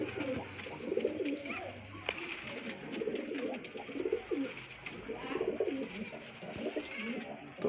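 Lalduma pigeons coo softly and repeatedly in a close, quiet loft, their low rolling calls coming in uneven bursts with faint rustles between.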